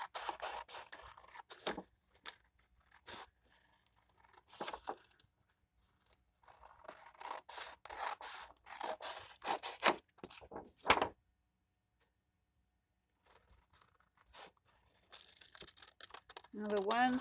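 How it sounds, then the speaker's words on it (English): Scissors cut around a printed paper pillow box template in a long run of close, crisp snipping and paper rustling, pausing briefly near the end before cutting resumes. "I'm going to cut all the way around."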